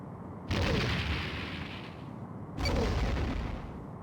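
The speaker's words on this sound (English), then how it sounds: "Torpedo lock. Fire." A starship fires two torpedoes in Star Trek: A Final Unity, each launch a loud, whooshing burst that hangs for over a second, spaced about two seconds apart with no talk over them.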